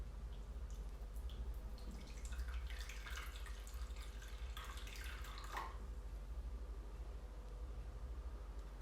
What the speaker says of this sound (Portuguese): vou colocar a água de forma a ter água suficiente para cozer